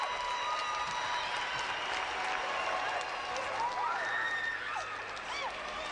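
A college gymnastics arena crowd at a women's meet claps and cheers in a dense, sustained roar of applause with scattered whistles and shouts, holding steady throughout and mixed with distant commentary.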